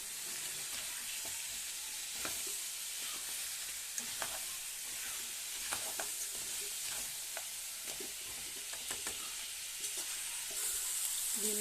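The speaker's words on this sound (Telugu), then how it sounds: "మసాలాల మనం మొత్తం మంచిగా కలుపుకుందాం" Village-style crab curry with spices cooking in a pan, a constant low sizzle with occasional faint scrapes and clinks as it is stirred, fairly quiet and steady with no one talking.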